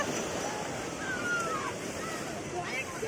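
Sea waves wash in at Puri beach, a continuous roar of surf mixed with wind buffeting, with voices faintly audible over the water.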